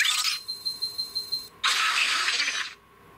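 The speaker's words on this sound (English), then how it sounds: "Albedo did have a different transformation sound, and that's perfect, just like his character." An Omniverse Omnitrix smart watch toy plays its Albedo transformation effect: seven quick, evenly spaced electronic chirps, then a longer bright burst of static-like tone, loud and alone.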